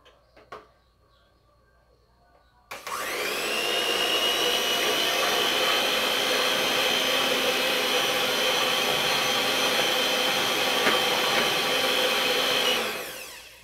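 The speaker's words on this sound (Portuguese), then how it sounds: "Vou estar batendo aqui os nossos ovos" An electric stand mixer beats eggs at medium speed for a simple flourless cake. After a few seconds of near quiet, it starts abruptly and keeps up a loud, steady whir for about ten seconds before shutting off.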